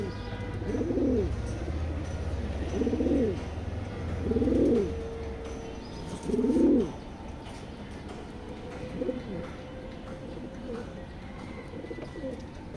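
A big pair of red checker racing pigeons in a loft coo in repeated soft, rounded phrases about every two seconds, fairly close, over a low background rumble.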